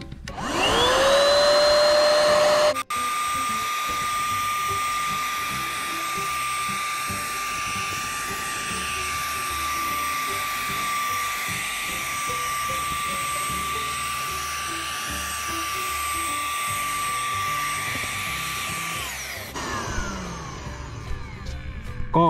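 A steady, high-pitched electric motor whine with a hissing paint spray from a Mensela PT-L2 1000ml cordless paint spray gun runs continuously for about twenty seconds, starting and stopping abruptly.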